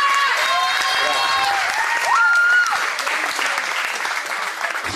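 Audience applause after a singer's cover performance at a live show, a dense steady wash of clapping with cheering and whistles rising over it, continuing loud throughout.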